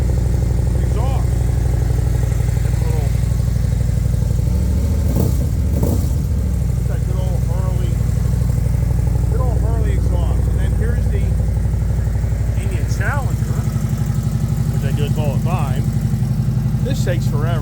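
A performance motor's exhaust runs with a loud, steady, continuous rumble close by, while someone talks over it throughout.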